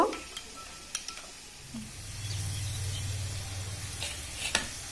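Spice paste with turmeric fries in a hot kadai, giving a steady, soft sizzle. Scattered clicks of a spoon stirring come through it, and a low hum builds midway, with no talk.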